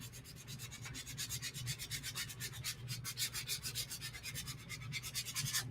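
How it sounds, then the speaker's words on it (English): Rhythmic rubbing strokes scrub across a Glowforge-cut wooden letter A as it is sanded and cleaned, a close, steady back-and-forth rasp repeating throughout without talk. "I'm just cleaning this A off a little bit because that was a lot of sanding"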